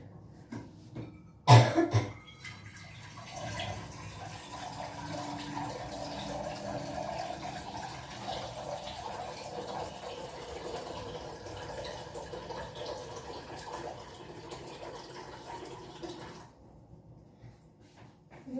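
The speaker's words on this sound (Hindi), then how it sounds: "मैं सीधा पानी फिल करूंगी।" Water runs steadily into a pot at a home kitchen tap, a soft continuous pour lasting about fourteen seconds, opened by a brief cough and ending abruptly.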